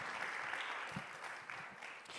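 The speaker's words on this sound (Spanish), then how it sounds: "Si puede darle sus palmas al Rey, désela con toda libertad." A church congregation claps during a service, a steady wash of applause at moderate distance with faint voices mixed in.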